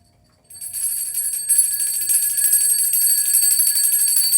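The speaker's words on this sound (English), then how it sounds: "I need to ring the bell." A small bell is struck to clear energy during a tarot reading, ringing out in a bright, sustained metallic tone with a shimmer that rises after a second strike and stays steady, heard alone.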